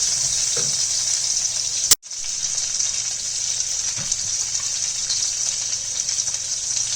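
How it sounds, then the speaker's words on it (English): Steady, dense sizzling of potatoes frying in hot oil in a pan for a Bengali fish curry, continuous and close, with a brief sharp cut-off partway through. "The potatoes are done frying."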